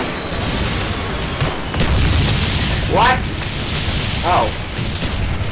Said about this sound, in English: let's run right back into the mortars